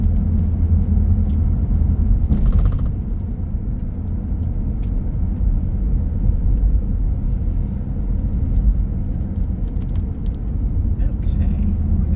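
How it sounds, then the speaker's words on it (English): A 1988 Mercedes-Benz 560SL engine runs at a steady idle, a continuous low rumble close by with faint clicks and brief background noises, no one speaking. "The engine sounds really strong."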